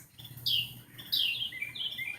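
Birds chirping outdoors in the morning, a few bright descending tweets repeating near and clear over a low background hum, with no talk.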